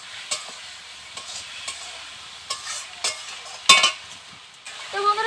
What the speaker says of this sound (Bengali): মশলার সাথে আলুটাকে ভালো করে কষিয়ে নিতে হবে